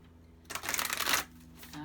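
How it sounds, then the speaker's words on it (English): A deck of tarot cards is shuffled in one quick riffling burst lasting under a second, close and crisp, set between quiet moments. "one more good shuffle"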